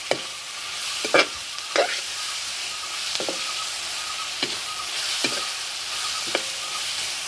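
Stir-frying with salt and turmeric in a pan until browned, a steady soft sizzle broken by several sharp scraping strokes of the spatula at irregular intervals, close and without speech.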